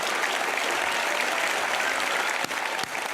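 Sustained, dense clapping from a studio audience at a televised comedy roast fills the whole stretch evenly, with a couple of sharper claps near the end and no talk over it.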